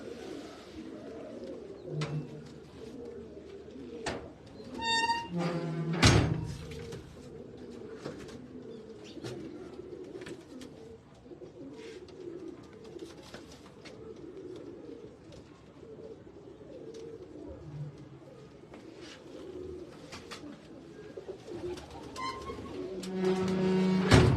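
Domestic pigeons coo steadily and low in a loft, with a few sharper chirps and brief wing flaps now and then, all close by and without talk.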